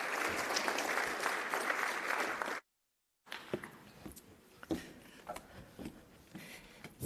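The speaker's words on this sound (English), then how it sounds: "A big round of applause for our panelists." Conference audience applauding panelists at a plenary session, moderate steady clapping that cuts off abruptly into silence, then returns as scattered, thinner claps and room noise.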